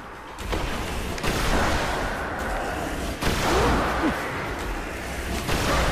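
A fusion rifle fires in Destiny, a loud, sustained roaring burst with crackling blasts that swell and fade over several seconds, over a constant noisy background.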